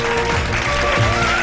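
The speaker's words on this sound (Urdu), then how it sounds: "بہت ساری تالیاں بجا دیں ان کے لیے" A studio audience on a Ramadan iftar television show claps in a dense, continuous burst of applause, with a voice faintly underneath.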